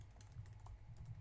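Rapid clicking of typing on a computer keyboard, quiet and steady throughout, close by in an indoor live-stream setting.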